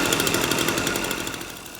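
An Echo PB-260L leaf blower's small two-stroke engine runs steadily, a buzzing, slightly rough drone with a rapid pulsing beat, close and loud and fading a little at the end.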